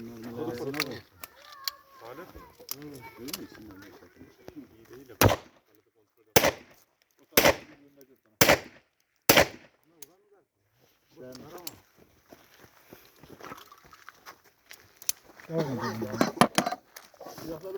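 A Browning 7.65 Model 1900 pistol fired outdoors, five sharp cracks spaced roughly a second apart, loud and close, with someone talking before and after the shots.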